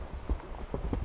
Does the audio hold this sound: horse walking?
yes